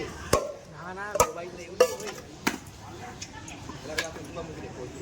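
A block of ice is broken up in a metal pot with a series of sharp, hard cracks and knocks spaced about a second apart. Voices talk quietly underneath.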